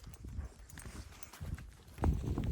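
Horse hooves clip-clop at an irregular walking rhythm while being ridden on a trail climbing to higher altitude in Kyrgyzstan toward Son-Kul, Naryn, close and moderately loud with some rustling and a heavier thud near the end.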